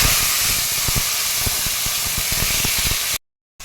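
Loud, dense sizzling and hissing as onion paste hits hot oil already tempered with cinnamon for an egg korma, with steady spattering crackles throughout before the sound cuts off abruptly near the end; no voices.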